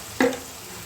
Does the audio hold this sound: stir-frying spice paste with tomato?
yes